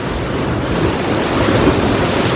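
Ocean surf at a rocky tide pool washes in a continuous loud roar of breaking water and hiss, with wind buffeting the microphone and no voices.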